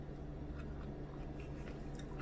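Someone chews a mouthful of kimchi with spicy ramen, with soft, irregular bites and squishy mastication sounds close up over a steady low background hum. No one speaks.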